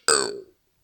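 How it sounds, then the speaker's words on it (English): A single loud, close burp lasting under half a second, rough and voiced, ending abruptly into silence. "I moved away from that burp"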